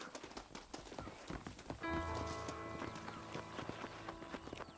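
Horse hooves clip-clop steadily in Red Dead Redemption, a soft, even walking rhythm of muted thuds under a faint ambient bed. A brief tonal hum rises partway through.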